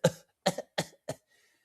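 Young boy coughs four times in quick succession, close and fairly loud, each cough short and harsh, then quiet.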